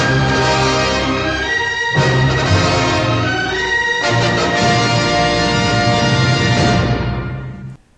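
A fanfare plays as a loud, bright orchestral brass flourish with sustained chords in three swelling phrases, ending in a held note that fades out.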